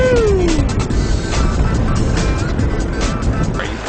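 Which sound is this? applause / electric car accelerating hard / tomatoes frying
electric car accelerating hard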